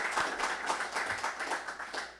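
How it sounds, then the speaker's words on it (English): Graduates of an executive protection academy class receive brief applause from a small audience, a fairly soft, short patter of clapping with a low murmur beneath. "Let's give them a round of applause as"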